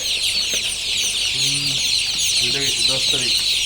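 Hens on a poultry farm in winter cluck in short bursts against a constant high-pitched hiss of insects or machinery, with a few scattered squawks.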